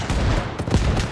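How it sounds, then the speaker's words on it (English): Rapid gunfire crackles from an Arma Reforger night forest battle, a dense burst of overlapping shots and booming blasts packed into a second, loud and close. "NVGs must be loving the explosions."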